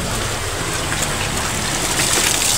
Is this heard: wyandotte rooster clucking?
no